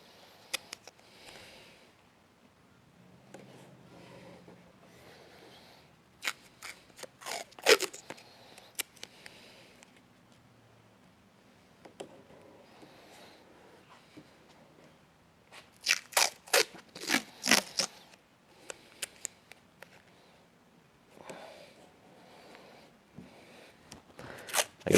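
Adhesive tape peeled off the roll while masking chrome trim around a car headlight, giving quiet sticky crackling rips in a few separate bursts, close and with no talking.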